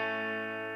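A Stratocaster rings out in a country tone with reverb, slapback delay, compression and slight overdrive, one sustained chord holding steady and slowly fading over under a second.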